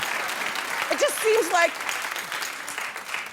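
A studio audience claps along steadily in the background of a daytime talk show while someone speaks over it, the applause continuous and moderately loud.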